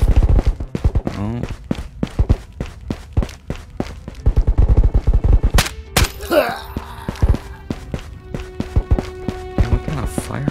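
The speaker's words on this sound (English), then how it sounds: "what kind of firefight going on out here?" Firefight in the video game Ghosts of Tabor: a rapid string of sharp, loud shots and impacts cracks out in uneven bursts, with brief pauses and occasional voices.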